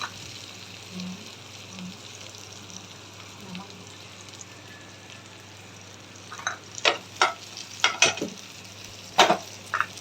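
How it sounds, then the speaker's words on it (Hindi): Cubed food sautéing in a pan at home, a steady soft sizzle that later gives way to a quick run of loud spatula scrapes and clatters. "तो ये थोड़ा हो रहा है सॉटे, क्योंकि मैंने क्यूब्स में काटा है"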